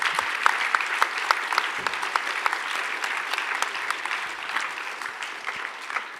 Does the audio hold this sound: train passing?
no